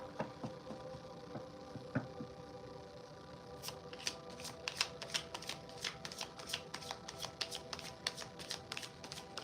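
A deck of angel oracle cards is shuffled by hand, starting with a few soft taps and settling into a rapid, crisp riffling flutter close by, with faint background hum.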